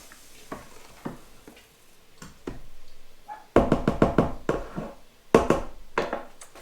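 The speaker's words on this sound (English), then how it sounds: "Now you might want to stir this a few times to make sure that sugar is dissolved" A spoon stirs sugar into dandelion wine, knocking and scraping against the vessel in irregular clusters of sharp taps that grow louder and busier toward the end.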